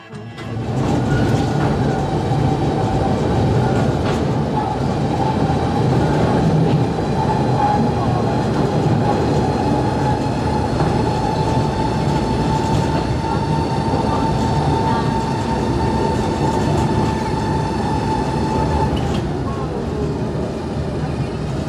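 A London Mail Rail underground postal railway train, held at a red signal, rumbles steadily and loudly throughout, with a constant mechanical drone and faint wheel squeal, enclosed and close.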